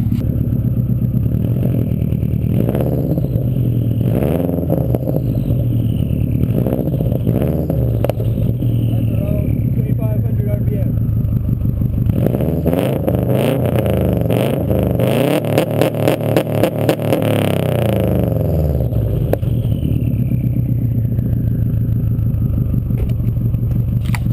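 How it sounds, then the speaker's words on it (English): A 2002 Subaru WRX wagon's turbo engine idles roughly then revs hard on launch control and stutters rapidly in a loud, close, pulsing burst before settling back to a throbbing idle. "I'll rev it a little bit and hit the launch control just so you can hear it"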